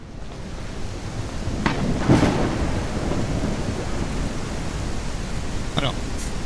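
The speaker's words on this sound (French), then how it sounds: "Le bruit de l'orage, j'ai entendu mieux, mais ça va." In the survival video game NO ONE, steady rain hisses over a deep rumble of thunder, with a few brief crackles rising out of the wash of noise.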